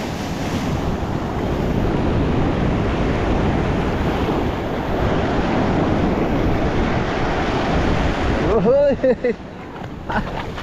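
Large ocean waves wash and roar nearby with wind noise at a fishing spot, ending with a brief sweeping whistle-like sound.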